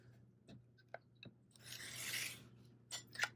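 Folded paper for a tag being trimmed against a 1/4-inch ruler, a faint soft rasping scrape lasting about a second, surrounded by a few light taps in a quiet room.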